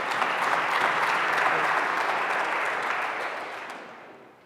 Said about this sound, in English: We got applause for the abortion one.